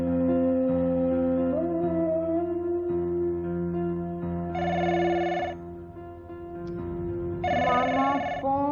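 A telephone rings in two short bursts of electronic trilling, separated by a pause, over a steady background of music.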